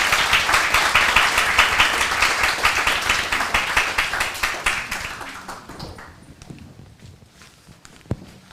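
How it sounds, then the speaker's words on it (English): An audience at a policy symposium applauds after a panel discussion, a dense burst of clapping that holds steady for several seconds and then thins out to a few scattered claps. "If you'll give our participants a round of applause."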